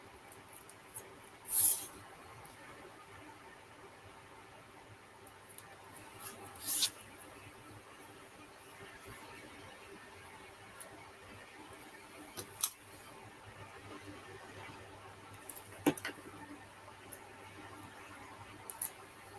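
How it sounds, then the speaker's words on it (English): A few quick, crisp snips as a small strip of cardstock is cut for card making, set far apart in an otherwise quiet room with no talk. "I'm going to just cut myself a little strip."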